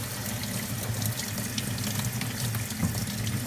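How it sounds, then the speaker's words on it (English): Hot water runs steadily from a sink tap over a Samsung steam VRT washing machine filter, a constant hissing splash with no pauses. "You start running it underwater here, and we'll blast this bad boy using some hot water."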